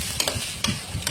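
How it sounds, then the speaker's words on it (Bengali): Pasta fries in a pan with onion, chili and salt, a soft continuous sizzle up close, punctuated by a few sharp scrapes of stirring. "নুন দিয়ে একটু ভালো করে পাস্তাটাকে ভাজতে হবে।"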